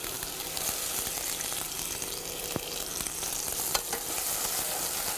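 Onion goes into hot mustard seeds in a deep pan, setting off a loud, steady sizzle with scattered pops and crackles running throughout, and nobody speaks.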